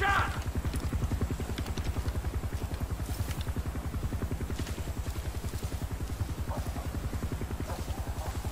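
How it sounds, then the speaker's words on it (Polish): A helicopter circles overhead in the video game Far Cry 5, its rotor giving a fast, steady low thumping pulse throughout, loud and continuous, with a brief voice near the start. "Kurde, krąży ten helikopter."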